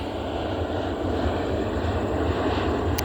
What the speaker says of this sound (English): That's airplanes in the background.